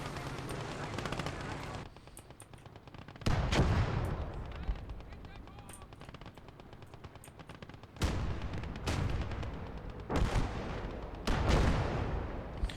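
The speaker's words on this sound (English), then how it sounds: "preliminary bombardments. Get the mortars up there." Mortar and artillery bombardment in the video game Call to Arms: Gates of Hell, several heavy booming impacts breaking out over a continuous crackle of distant gunfire, loud and close at times.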